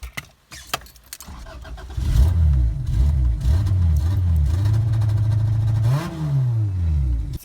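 A Honda B20B engine in a cheap track-car project, powered by a borrowed truck battery, cranks briefly after some clicks, then catches and settles into a steady, close idle with a rising rev near the end.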